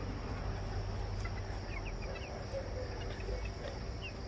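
Chickens and roosters, including silkies and egg layers, cluck softly in a coop amid a steady background hum and insect chirps, scattered faint clucks rising over the constant noise.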